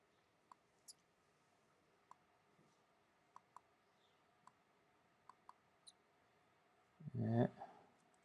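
Sparse, faint clicks of mouse and keyboard input while landing page text is edited, scattered irregularly, followed by a brief louder voice near the end.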